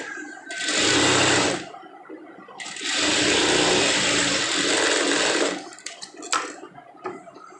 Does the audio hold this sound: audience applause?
no